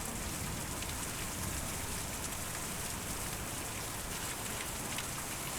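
Continuous rainfall pours down in an unbroken, uniform hiss of countless drops in the game Kentucky Route Zero, close and steady from start to finish with no talking.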